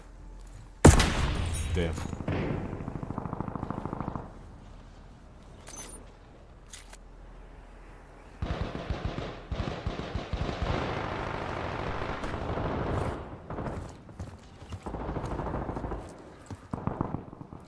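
Bursts of video game gunfire crack through a live stream, sharp shots followed by sustained rattling volleys, loud and close, with a person speaking briefly at times.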